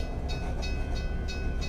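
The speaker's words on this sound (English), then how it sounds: "And we have a train that is blocking the way." A train passes at a road crossing, its wagons giving a steady low rumble with rhythmic clacks repeating roughly every third of a second, moderately close and continuous.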